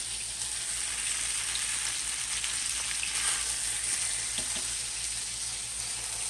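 Chicken strips and cabbage fried rice fry in a pan, a continuous even sizzle and crackle close by, unbroken for several seconds with no one talking.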